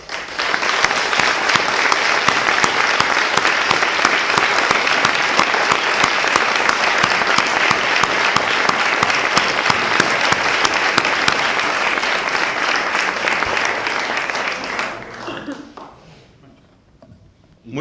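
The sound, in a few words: audience applause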